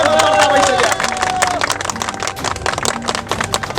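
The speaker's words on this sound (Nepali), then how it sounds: "सबैले ताली बजाउनु।" Crowd applause and clapping rising after a registration at the federal parliament secretariat in Nepal, a dense burst of many hands under mixed voices and cheering, steady through the whole stretch.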